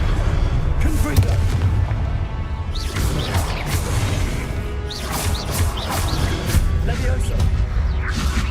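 Repeated heavy booms from the Confringo fire spell exploding in the video game Hogwarts Legacy, loud and close, with rumbling blasts and whooshes while a voice calls out spells.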